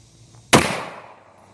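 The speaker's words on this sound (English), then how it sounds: "we're going to take a shot at it with a 1911 and see how it shoots" A single sharp gunshot from a 1911 pistol fired at an outdoor range target 15 yards away, a loud crack followed by a short fading echo.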